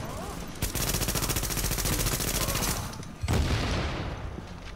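Automatic gunfire in The Division video game, a rapid, loud burst of machine-gun shots lasting a few seconds, followed by a heavier blast and ringing echo.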